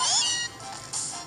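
Meowth's cry from the video game Pokemon Sun, two short rising cat-like meows in quick succession, clear and up close with no talk.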